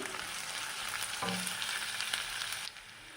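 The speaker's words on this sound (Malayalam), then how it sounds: "അപ്പോൾ ഇത് നന്നായി ഒന്ന് വഴറ്റിയെടുക്കാം നമുക്ക് ഏറ്റവും ആദ്യം" Onion, ginger, garlic and green chili sauté in a hot pan for a mezhukkupuratti dish, giving a steady, moderately quiet sizzle with a few stirring scrapes.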